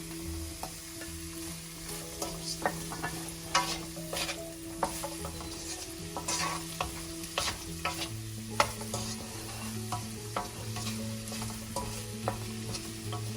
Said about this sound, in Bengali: এটা জাস্ট আমি একটু, খুব নরম হবে না, একটু ভেজে নিচ্ছি